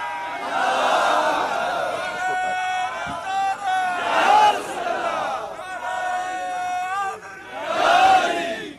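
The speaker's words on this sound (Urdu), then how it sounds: "ایسے نعرے ڈھیلے مارنے کی ضرورت نہیں" A large crowd at a Milad-un-Nabi religious gathering chants religious slogans in loud, swelling waves, with a leader's voice between the surges of massed voices.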